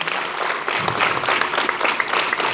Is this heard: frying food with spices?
no